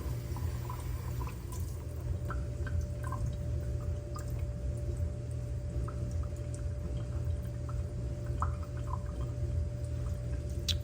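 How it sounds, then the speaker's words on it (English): Tap water running steadily over a cardboard pizza box, a continuous close splashing hiss with scattered drips and trickles, no voices. "Just running the water over it"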